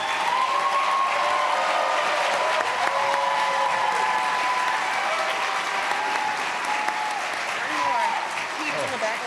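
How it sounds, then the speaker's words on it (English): An audience at a veterinary medicine white coat ceremony gives students a steady, full round of applause, dense clapping throughout with some whoops and voices mixed in. "Let's give these students another round of applause."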